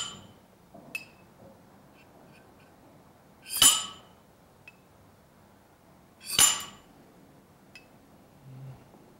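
A saber or kitchen knife slid up the glass seam of a champagne bottle, giving two bright, sharp clinks a few seconds apart against a quiet room.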